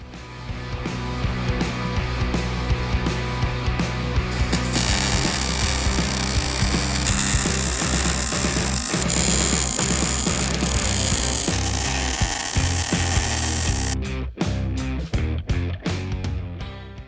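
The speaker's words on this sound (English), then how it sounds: "we're going to drill and tap this plate and then weld her on the bumper" A power drill bores and taps a steel plate for a tube-style winch bumper on an Isuzu Trooper, its motor running continuously up close and then breaking into short bursts at the end.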